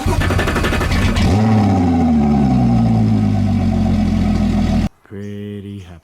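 A Mercury Pro XS 175 V6 outboard on a Seafox Viper 200 boat roars loudly up close, its pitch sweeping down as the revs settle into a rough idle, before cutting off abruptly as a voice briefly sounds.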